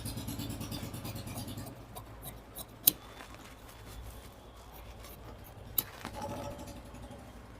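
Scissors cut through blouse fabric for a princess-cut blouse, giving quiet, soft slicing and rustling with two sharp snips or clicks spaced a few seconds apart and no talking.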